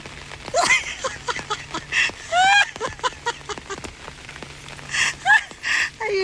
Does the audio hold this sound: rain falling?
yes